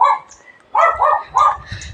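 Nearby dog along a roadside gives a single bark and then a run of three sharp, loud barks, with faint low rumbling underneath.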